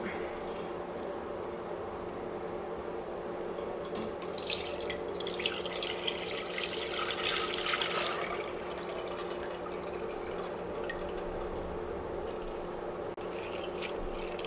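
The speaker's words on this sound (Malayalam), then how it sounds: "ഇനി ഇതിൽ നിന്ന് നമുക്ക് വെള്ളം മാറ്റി കളയണം" Water from soaked chana dal is drained through a strainer at a sink, a splashing, running-water rush that swells for several seconds in the middle over a steady background hum.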